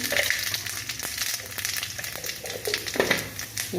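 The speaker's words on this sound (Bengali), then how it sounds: "তাই আমি কড়াই তেল দিয়েছি আর দিয়ে দেবো 5 ফোড়ন, সামান্য 5 ফোড়ন" Panch phoron spices crackling in hot oil in a wok, a close, busy sizzle with scattered pops and small ticks throughout, no voices.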